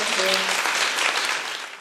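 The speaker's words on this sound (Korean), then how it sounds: "박수로 환영해 주십시오." Audience applause welcoming guests onto the stage at a Korean church talk show, a dense, steady clapping that fills the whole short stretch at close range, fading slightly toward the end.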